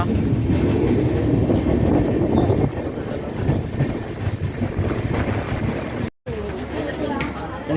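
A passenger train from Santragachi pulls into Bishnupur station with a loud, steady rumble and rattle of wheels and carriages. The sound runs close and continuous, briefly cutting out near the end, with voices faintly mixed in.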